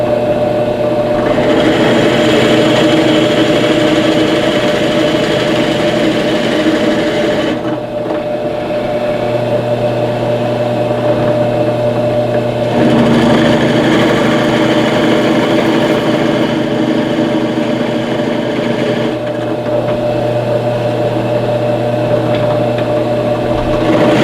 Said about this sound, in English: Now I'm going to drill some countersinks for the lag bolts